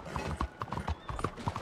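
Horse hooves clip-clop on a Western-era street in Red Dead Redemption 2, a quick, uneven series of close, crisp knocks at a brisk walking rhythm, with faint game background beneath.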